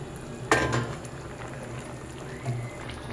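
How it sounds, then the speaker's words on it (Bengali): Catfish curry simmering in a pot at a low bubble, faint and steady, with a brief clatter of fish going into the pot near the start and another soft knock later. No one speaks. "তরকারিটা ফুটে গেছে, এবার আমি এই মাছগুলোকে তরকারির মধ্যে দিয়ে দিলাম।"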